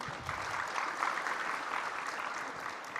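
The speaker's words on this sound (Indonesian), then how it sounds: "Jangan cepat tepuk tangan." An audience at an investor summit speech breaks into applause, a dense, even patter of many hands clapping at moderate distance for a few seconds.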